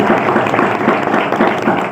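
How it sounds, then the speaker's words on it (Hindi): A church congregation claps along during a Hindi worship service, a dense, steady wash of many hands filling the space without pause. "परमेश्वर के लिए ताली बजाएं"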